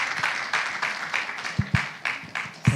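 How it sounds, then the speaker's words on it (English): A conference audience applauds a panelist being introduced: a short burst of scattered, fairly faint clapping with irregular claps and a few louder individual hand strikes. "please, ladies and gentlemen, a round of applause for Princess Adeyinka Tekenah."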